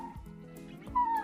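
A baby velociraptor in the Jurassic World film gives a thin, whimpering cry with a brief high squeak at the end, close and moderately loud.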